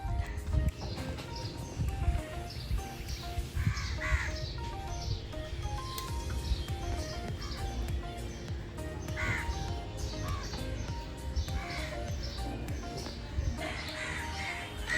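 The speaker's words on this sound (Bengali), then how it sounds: "কাক।" Crows caw repeatedly around a nest near a riverbank in the morning, their harsh calls coming in irregular bursts at moderate distance over a quiet background.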